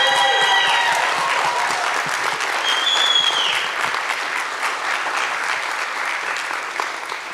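A live audience at an NMCAA 50th anniversary event gives long-serving staff a big round of applause: dense, loud, sustained clapping with some cheering, fading only slightly over several seconds.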